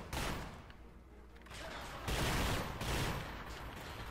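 Rapid gunfire from a damaged gun in The Chronicles of Riddick: Escape from Butcher Bay, a few loud bursts of shots in quick succession, close and dominant with little else heard.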